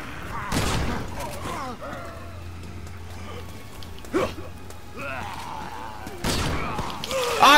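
Gunfire in Resident Evil 6, several loud sharp shots scattered across the scene with a burst near the end, mixed with game noise and a voice talking over it.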